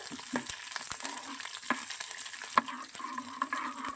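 Crackling, spitting sizzle of lentils and spices tempering in oil, with sharp pops scattered irregularly over a soft background hiss.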